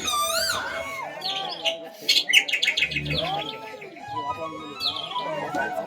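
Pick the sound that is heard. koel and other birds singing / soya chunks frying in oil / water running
koel and other birds singing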